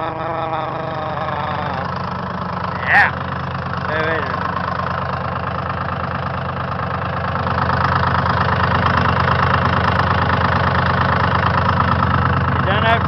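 A skidder's Detroit diesel engine idles after a cold crank, a steady loud rumbling chug that swells a little louder partway through, with a few faint squeaks and voices in the background.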